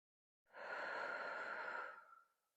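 A single slow, deep yoga exhale, a soft breathy rush that swells quickly, holds steadily and fades out gradually, close and quiet.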